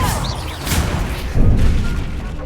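A Confringo fire spell explodes in Hogwarts Legacy, a loud booming blast with heavy low rumble, followed by a second thudding impact partway through amid game effects.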